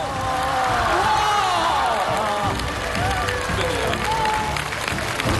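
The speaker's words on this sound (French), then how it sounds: "Allez, des applaudissements pour notre candidat." Studio audience applauding and cheering for a contestant on a French TV challenge show, a dense steady wash of clapping throughout with a presenter's voice and whistles mixed in.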